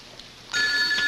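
After a faint, quiet moment, a telephone starts ringing with a sustained, bright electronic trill. It is fairly close and fills the rest of the short stretch, with nobody talking.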